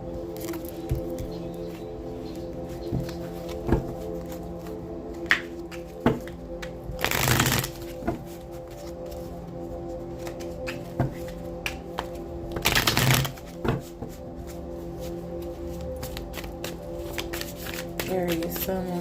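Tarot cards are shuffled in bursts of dry, fluttering riffles, two of them loud and prolonged, between lighter taps and card handling, over a steady tonal hum.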